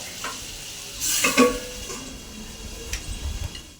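Cauliflower stems and potato simmering in water in a home kitchen pan, giving a steady low bubbling hiss with a brief stir and utensil clink near the middle.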